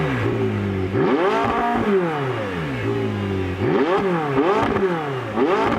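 A warm McLaren 675LT Spider's engine revs three times in quick blips, each snarl rising and falling back to a rough idle, heard loud and close.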